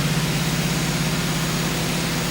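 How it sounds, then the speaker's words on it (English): A car engine idles high at about 2,000 rpm, holding a steady, continuous drone with a strong low hum and broad noise, alone and unchanging throughout. "It's idling much higher than it usually does."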